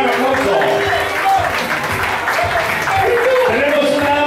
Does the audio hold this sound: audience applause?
yes